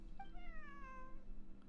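A single drawn-out cat meow, clear and close, sliding gently downward in pitch over about a second against a low steady hum.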